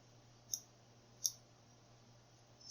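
Two sharp, faint clicks from a pin setting inside a word lock being picked, spaced about a second apart over a quiet low hum.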